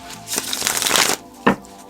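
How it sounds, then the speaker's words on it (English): A deck of tarot cards is riffled and shuffled in two bursts, a longer papery flutter followed by a short snap, close and clear with no talking. "let's shuffle this and take a look at love"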